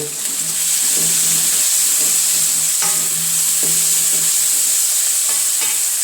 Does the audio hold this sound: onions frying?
yes